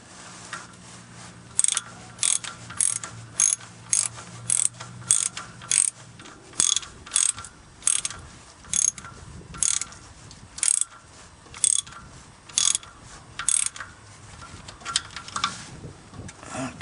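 A hand ratchet with a 7/16 socket turns a bolt on a car's speed sensor, giving a long series of quick, crisp clicking bursts in a steady rhythm, close up and with no talking.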